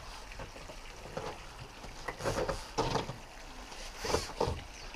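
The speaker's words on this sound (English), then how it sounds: "And give the frames a wipe." Pole-mounted frame cleaner wiping window frames, soft scrubbing and swishing strokes in irregular bursts, fairly faint against a quiet outdoor background.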